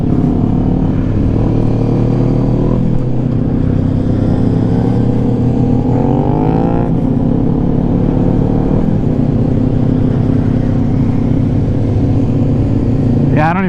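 A Kawasaki Z400 motorcycle rides on a road, its engine droning loud and close with wind buffeting, and several rising revs as it accelerates through the gears.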